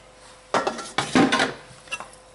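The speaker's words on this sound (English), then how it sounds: "And I'm going to throw it in my crock pot." Pieces of cut beef land in a crock pot as a few sharp clattering knocks and clinks of dish and utensil, spaced irregularly over a couple of seconds with no talking.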